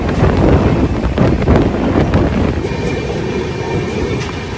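Darjeeling Mail express train running on rails between Kolkata and Siliguri, a loud continuous rumble and roar of wheels and carriages with steady clatter and wind noise, heard close from inside the moving train.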